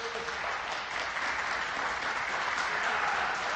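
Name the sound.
both benches clapping at a basketball game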